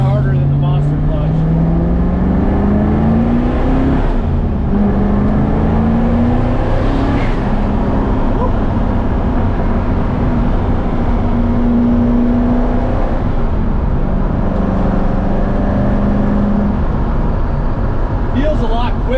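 A turbocharged LS-swapped Mazda FC RX-7 with a new twin-disc clutch drives along, its engine droning loud and continuous with pitch rising and falling through gear changes, heard from inside the car.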